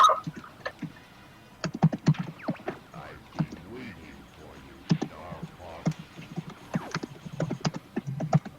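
Rapid, irregular clicking of computer keys from a player during a Star Fox 64 game session, with bursts of tapping scattered through the clip beneath game sounds and some talk.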